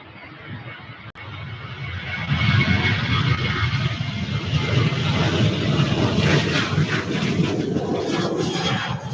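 A Southwest Airlines jet bound for Denver roars at Louisville airport, its engine noise rising sharply after a couple of seconds and then holding a loud, steady, close rumble with no talking.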